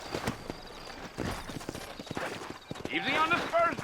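A horse gallops in the video game Red Dead Redemption, rapid rhythmic hoofbeats drumming close by under a man's spoken lines, with a brief whinny near the end.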